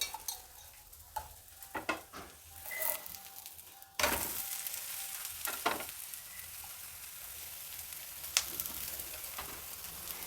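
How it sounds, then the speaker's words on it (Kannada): Radish rava roti cooking in oil on a pan gives a soft, low sizzle, with occasional clinks and scrapes as it is turned and pressed. "ಎಣ್ಣೆ ಹಾಕಿ ಎರಡೂ ಕಡೆನೂ ಚೆನ್ನಾಗಿ ರೋಸ್ಟಾಗಿ ಬೇಯಿಸಬೇಕು"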